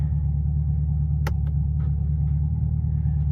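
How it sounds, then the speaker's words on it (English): A C8 Corvette with a transmission that failed two weeks after delivery idles with a steady low rumble, broken by a sharp clunk and a few fainter clicks as it is shifted into gear. "Now we're gonna go ahead and put it into gear."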